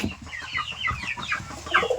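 Tiger breed chickens cluck on a farm, several birds calling close by in quick, overlapping bursts against a soft background.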